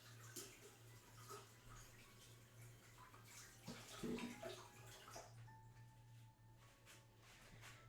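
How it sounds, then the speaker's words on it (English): Tap water runs over a spatula in a kitchen sink while baking cookies, a steady rushing stream with splashy surges over a low steady hum, quieting toward the end. "spatula is washed once again"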